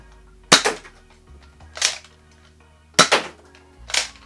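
An X-Shot Ninja toy foam blaster fires four times in two pairs, each a sharp, close, snappy pop with a brief rattling tail, set against quiet room background and no speech.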